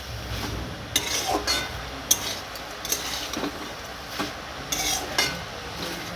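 Fish and vegetables stirred in a pot in a village kitchen, repeated scraping and clinking of a utensil against the pot over a soft sizzling bed, close and steady.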